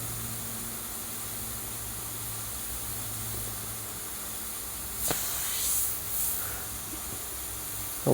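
Very thin paint hisses from an airbrush in a few short bursts while fine details are added to a Senna F1 car model, against a steady low background hum.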